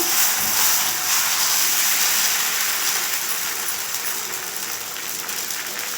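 Masala dosa batter poured onto a hot pan hisses in a steady, bright sizzle that holds at a fairly even level and fades only slightly.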